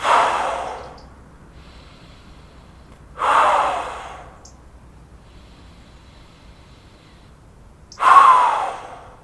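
A person breathes deeply during a stretching exercise for the lower back, with three loud, close breaths spaced evenly several seconds apart and quiet pauses between them.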